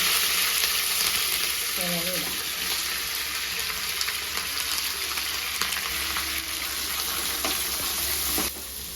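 Turmeric powder, chili and coriander powder and curry leaves sizzle in hot oil for a beef curry, a steady loud frying hiss running throughout with a brief stirring scrape near the start and the sizzle thinning at the very end.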